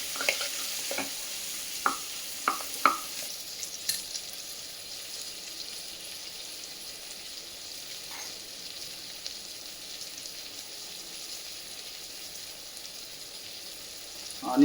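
Broad bean curry frying in a pan gives a steady soft sizzle throughout, with a few light scraping stir strokes near the start and a louder clatter at the very end.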